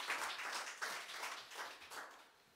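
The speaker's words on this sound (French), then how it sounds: "On peut l'applaudir." A small audience claps for a singer in an apartment concert setting, with short, faint bursts of applause and no talking.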